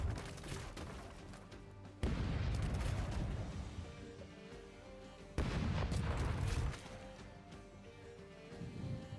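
Ship cannons firing in the pirate video game Rogue Waters, heavy booming volleys in two loud bursts with rumbling aftermath and battle noise between them.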